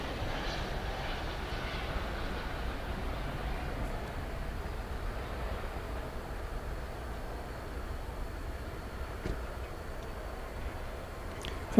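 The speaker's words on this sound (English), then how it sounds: "Flight 2485 coming in from San Diego, California, in Airbus A321." An Airbus A321 arrives at DFW Airport from San Diego at night. Its distant engine roar holds at a steady, even level for the whole stretch, with no voices over it.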